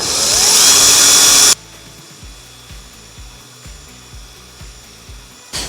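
A cordless drill bores centre holes in the crushed roof of a BMW E92: a loud, harsh burst for about a second and a half, then quieter, rhythmic knocks and ticks nearby.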